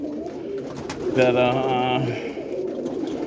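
Roller pigeons coo in a loft, one bird giving a clear rolling coo close by while someone talks briefly and other birds shuffle and flutter in the background.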